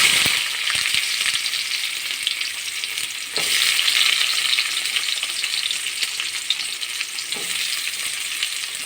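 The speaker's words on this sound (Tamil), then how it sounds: "எண்ணெய் சூடாகிடுச்சு இப்போ நம்ம நறுக்கி வச்ச வெங்காயத்தை போடுறோம்" Chopped small shallots frying in hot oil in a kadai, giving a steady, loud sizzle throughout with a few brief stirring clinks and no talking.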